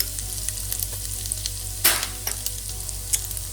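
Masala spices sizzle and fry in a pan over a low flame, a steady close crackle with sharp spatter pops and one louder burst, a low hum underneath, no talk.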